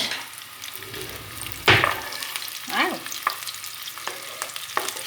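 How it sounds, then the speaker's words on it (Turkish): Onions sautéing in a pan for an artichoke salad, with a steady soft sizzle and occasional stirring scrapes, one louder stir near the middle, no talking. "Şimdi şöyle güzelce kavuracağız"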